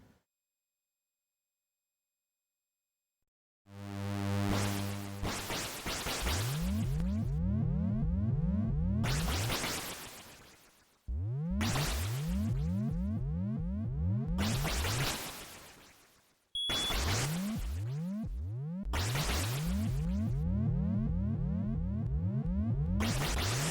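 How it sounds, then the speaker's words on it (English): Harsh repeated electronic bursts from tanks firing in the Commodore 64 game Jackal, each a buzzy descending sweep stacked in rapid runs, in loud stretches broken by short gaps. "God, that noise is awful. Every time the tanks shoot."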